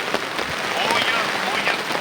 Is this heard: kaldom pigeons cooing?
no